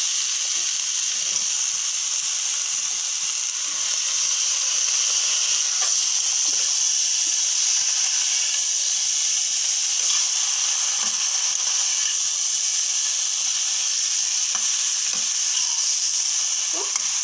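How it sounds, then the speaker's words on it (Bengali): Eggplant pieces sizzle steadily in hot oil in a pan, a constant bright frying hiss with occasional soft stirring clicks throughout, no voices. "ভাজা ভাজা হয়ে গেলে তারপর দিয়ে দেবেন বেগুনগুলো"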